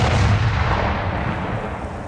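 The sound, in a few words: explosion recorded by action camera built-in microphone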